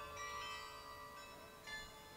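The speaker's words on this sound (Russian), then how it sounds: "Ратуша, колокольня. Слушаем." Bells in the Tartu town hall bell tower ring as faint, distant tonal chimes with lingering overtones, a couple of soft strikes heard far off with no talking.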